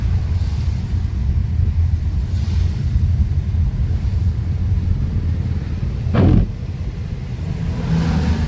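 Steady low rumble of road traffic in Kufri near Shimla, a vehicle engine droning close by throughout with a brief louder pass or horn-like burst partway through.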